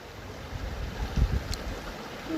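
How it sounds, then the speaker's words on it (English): A large volume of river water rushes steadily at a trail ford in the Colorado mountains, a continuous broadband wash with some wind buffeting, heard alone without talk. "Large volume of water coming down here."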